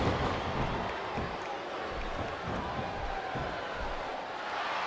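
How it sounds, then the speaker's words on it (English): Arena crowd noise from the wrestling video game WWE SmackDown vs. Raw 2007 during a Royal Rumble: a steady, full-bodied roar of a large audience that holds evenly throughout. "Sounds like this crowd's got something on their minds, King."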